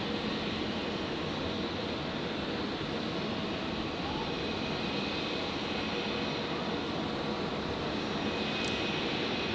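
A Nauru Airlines Boeing 737 Classic jet begins its takeoff roll at night at Brisbane International Airport, a steady broadband engine roar heard from a distance at constant loudness with no pauses.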